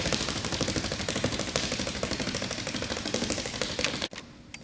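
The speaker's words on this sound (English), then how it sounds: "So foot fire, I'm gonna get in a good base, and I'm just gonna fire my feet." Feet stamp in a rapid foot fire drill, a fast, dense, even patter of quick footfalls close by that runs for about four seconds and then stops abruptly.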